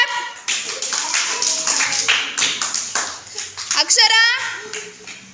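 Young children clapping during a classroom color-picking activity, a few scattered hand claps and taps mixed with a voice and an adult speaking.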